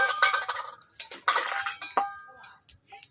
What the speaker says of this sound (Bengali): কড়াই বসিয়ে দিচ্ছি